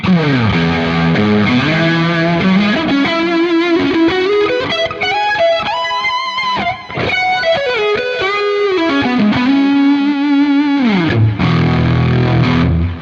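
Electric guitar with heavy distortion and a reverse delay effect, played through a Quad Cortex, sustained notes and bends swelling in continuously and loud without talk.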